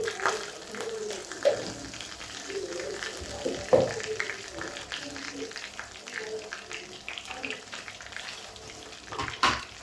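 Cumin sizzles and crackles in hot sesame oil with a steady frying hiss, occasional sharper pops, and a person speaking softly over it.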